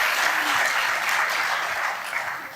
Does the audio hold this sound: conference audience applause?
yes